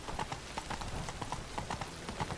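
Horse hooves clip-clop steadily on hard ground in The Witcher 3: Wild Hunt, a Nilfgaardian horse ridden through town, with regular close strikes at an even walking rhythm and no talk.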